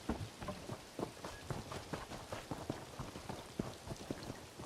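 Steady rain falls in a video game world, a dense hiss of many close droplets with soft scattered patters and occasional heavier drips, fairly quiet, with no voices.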